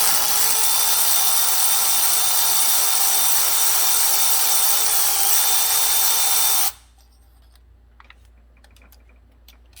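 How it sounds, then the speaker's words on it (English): A dense, steady whirring buzz from an electric ratchet removing bolts during oil pressure sensor work on a 2013 Ram 3.6 V6 runs loud and close for about seven seconds, then stops abruptly, leaving faint ticks and quiet. "I'll use the electric ratchet to take them out."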